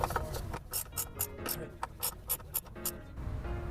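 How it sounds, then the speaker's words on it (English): A socket and ratchet tighten the lower engine mount bolts on a BMW E46, giving a run of quick close clicking ratchet strokes in short uneven bursts, fairly quiet. "We're gonna do the lower ones here with, thankfully, our socket and ratchet."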